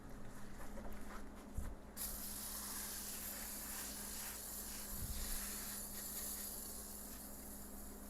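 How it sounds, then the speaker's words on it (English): A steady aerosol hiss of oven cleaner sprays continuously from a can for several seconds, close and fairly quiet, with a faint low hum underneath. "just spray it on as thick as you can get it"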